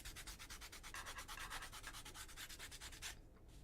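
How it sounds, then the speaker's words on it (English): Blending stump rubbed back and forth against sandpaper to sand off color, a fast rhythmic scratchy rasp up close and faint, stopping near the end. "basically you're just going to sand the color off."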